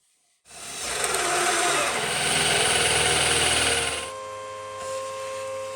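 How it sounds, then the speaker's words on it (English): A power drill bores a 14mm hole for an M14 threaded-rod column fastener while a stair tread is extended and a railing built: the motor spins up sharply and runs loud and close for several seconds before easing to a lower whine. "It's time to drill a hole for a column fastener. It should be 14mm."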